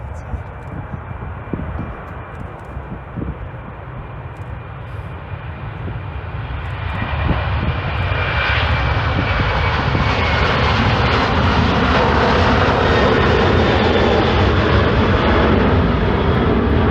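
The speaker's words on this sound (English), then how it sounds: "So, there goes the Airbus A330 on its way from Manchester to Bridgetown, Barbados." An Aer Lingus Airbus A330 jet on its takeoff roll at Manchester Airport, a loud broad engine roar that builds and then holds steady and powerful.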